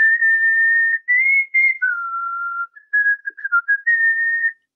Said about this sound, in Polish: Czy dałabyś radę nas nauczyć tego gwizdania tuż przed premierą?